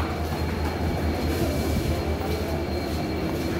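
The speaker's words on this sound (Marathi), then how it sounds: "ट्रेन आलेली आहे" A train rolls into a station with a steady, loud rumble of wheels on rails and a faint metallic squeal running throughout, with no talking.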